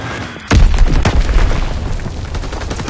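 A loud, close boom from a Fritz X bomb strike in Call of Duty WW2, a sudden heavy blast followed by rumbling aftershocks and scattered pops that slowly fade.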